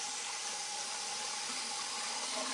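Running tap water rinses a face after a facial scraping treatment at a beauty salon, a steady close splashing hiss that lasts throughout with no voices.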